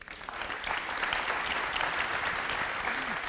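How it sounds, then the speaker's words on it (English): Audience at a Tokyo asset management forum applauding the moderator and panelists, dense sustained clapping from a large crowd filling the room steadily, with a brief voice faintly underneath. "Big round of applause to the moderator and the panelists."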